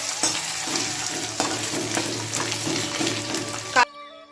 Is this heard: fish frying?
yes